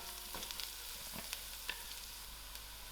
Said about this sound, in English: I'm going to add in my garlic and allow the garlic to fry a little